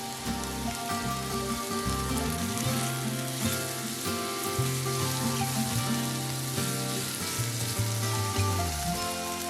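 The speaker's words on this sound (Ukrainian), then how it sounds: "Нарізану ковбасу відправляємо до печериць підсмажуватись." Steady, loud sizzling of sliced sausage and mushrooms frying in a pan, a continuous crackle with no talking.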